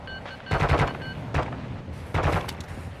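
Gunfire in DMZ, a Call of Duty mode: three close, loud bursts of rapid automatic shots, each lasting a fraction of a second, separated by short pauses.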